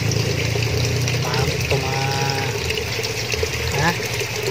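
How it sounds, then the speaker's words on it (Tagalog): Water runs continuously through a fishpond filtration setup with a pump, making a loud, steady rushing and gurgling wash, close by, with faint voices now and then. "Maagos na yung tubig yan mga kahabi."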